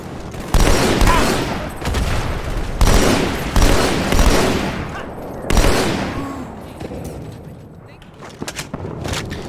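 In Halo 2, a grenade goes off with a deep boom amid sharp bursts of gunfire, several loud blasts in sequence followed by scattered lighter shots as the din fades, with voices mixed in.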